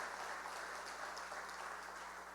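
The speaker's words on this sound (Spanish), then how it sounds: "eso sí se merece un aplauso" Applause from a church congregation during a Spanish-language sermon, a steady dense wash of clapping that holds at an even level throughout without a voice over it.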